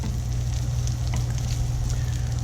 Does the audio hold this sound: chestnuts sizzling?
yes